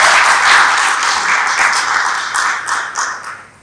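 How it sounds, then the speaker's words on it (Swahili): An audience claps at a public launch event for an anti-fraud spam alert campaign, a dense burst of applause that swells early and then tapers off toward the end, with no voices over it. "Wapigeni makofi mengi sana Airtel"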